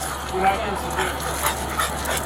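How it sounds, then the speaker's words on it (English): A dog near a house in a wooded residential area gives short whimpering and panting sounds at a distance, mixed with faint voices in the background. "Dog."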